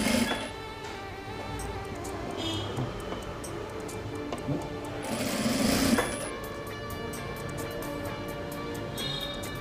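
A sewing machine stitching the folded edge of a double-strip trouser back pocket, a rapid steady mechanical ticking run with brief bursts and pauses, close, with no talking.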